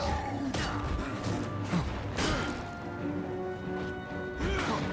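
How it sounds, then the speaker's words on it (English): In Guild Wars 2, a boulder blast stone attack lands as loud smashing and thwacking impacts among clanking mechanical game effects, with a dense, continuous battle din. "Stone bullets. Oh. And a That'd be good. boulder blast."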